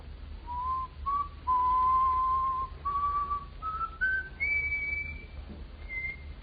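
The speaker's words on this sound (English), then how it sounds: "You gotta whistle, mister." A man whistles a slow, wavering tune, with phrases rising step by step in pitch and short pauses between them, close and alone over a faint hum.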